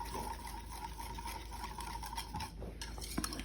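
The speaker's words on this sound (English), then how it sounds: "Whisk it until the chocolate is entirely melted." A large whisk stirs melted chocolate in a bowl, giving soft, quiet, continuous scraping and light metallic clinks close by.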